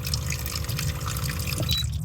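Water gushes steadily from a pump in a car being lived in during a blizzard, a continuous close rush that runs about two seconds before cutting off abruptly near the end.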